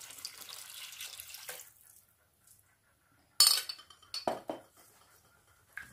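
Beef broth poured into a pot of Hungarian goulash: a brief steady liquid pour, then a pause and a few sharp metallic clinks of a utensil against the pot, all fairly quiet with no talking.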